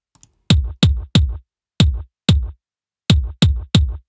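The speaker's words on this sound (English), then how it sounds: "the drums originally sounds like this" Unprocessed drum track for a retro 1980s video-game style tune, with kick and bass: eight punchy, clean hits in a loose, uneven rhythm with short gaps between them. No voices are present.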